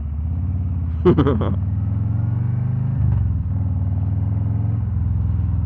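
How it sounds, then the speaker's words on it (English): A deep, steady exhaust growl from a 2023 Harley-Davidson Street Glide Special rumbles at low speed throughout, loud and close, with a brief sharp burst of another sound near the start. "Now I can hear them exhaust growl."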